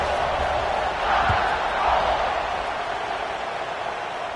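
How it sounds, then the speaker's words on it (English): Football stadium crowd after a score: a broad, steady roar of many voices fills the space, swelling slightly in the middle and staying loud throughout. "this crowd is buzzing after that last score"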